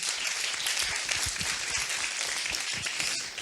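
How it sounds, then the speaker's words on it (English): A round of applause from an audience at an apprenticeships session, dense steady clapping filling the short stretch at even loudness with no talk. "Round of applause for that journey."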